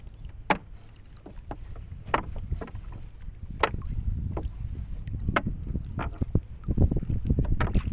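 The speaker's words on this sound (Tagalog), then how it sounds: "Medyo malakas na uli guys ang hangin." Strong afternoon wind blowing across the sea around a small fishing boat, a steady low rumble with gusts, plus sharp knocks and splashes of water against the hull at irregular intervals.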